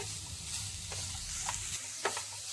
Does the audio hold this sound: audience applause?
no